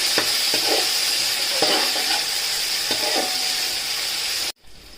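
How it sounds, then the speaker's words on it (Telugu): Grated tomatoes for an Andhra Bhimavaram-style chicken pulao sizzle steadily in a pan, close and loud, with a few scraping stirs at regular intervals before the sound cuts off abruptly. "ఇట్లా తీసుకొని సన్నగా తురుముకొని వేసుకోండి. ఇవన్నీ మంచిగా మగ్గాలి దగ్గరగా."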